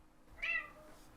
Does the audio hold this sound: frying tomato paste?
no